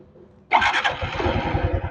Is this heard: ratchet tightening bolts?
no